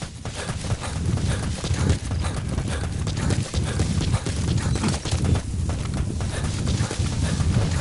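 Horse hooves clip-clop at a walking pace in Metal Gear Solid V: The Phantom Pain on PS4, a steady, close, even rhythm of hoofbeats with a faint wash of outdoor ambience behind them.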